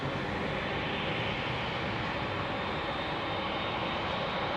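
Airliner jet engines at Heathrow Airport at night, powering up during taxi, a loud, steady, broadband roar that holds evenly throughout, heard up close with no talking.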